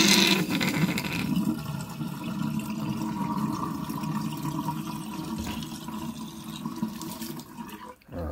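Water rushes loudly and steadily down a freshly cleared kitchen drain line, where grease and food had built up, under strong pressure: a continuous close roar that persists for several seconds before briefly cutting out near the end.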